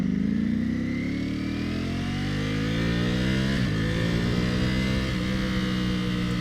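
A 2021 Ducati Panigale V4 Superleggera being ridden, its engine close and loud, revving steadily upward through rising pitch with a brief shift dip, continuous for the whole stretch with no talk.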